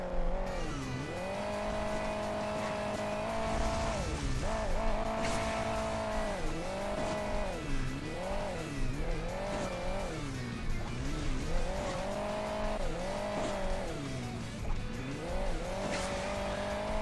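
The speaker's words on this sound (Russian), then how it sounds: "Ребята, он тоже на раллийном авто." Rally car in the Hill Climb Racing 2 video game, its engine revving and dropping repeatedly in a constant loud whine with rising and falling pitch, tires occasionally squealing throughout.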